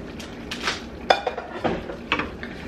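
A spoon works through shrimp fra diavolo sauce in a pan, making a few scattered scrapes and light metallic clinks against the pan, close but fairly quiet, with no talking.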